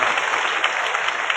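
Steady, dense applause from a dayro folk-music audience for tabla and manjira players, continuous and fairly loud throughout with no voices over it.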